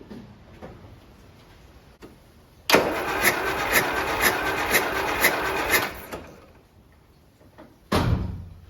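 A Land Rover Series 3 engine cranks on the starter during a cylinder compression test, with a loud, steady rhythmic chugging for about three seconds. It stops, and then a short burst of cranking follows.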